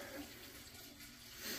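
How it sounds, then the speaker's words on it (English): Water from a water heater drains into a sump pump, a faint, steady rushing and trickling wash that swells slightly near the end, with no talking. "So we're draining the water down into the sump pump right now"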